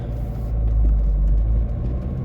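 Low, steady rumble of a vehicle driving along, hauling loaded beehives to a new apiary site in Portugal, heard close and continuous from inside with a slight swell midway and no talking.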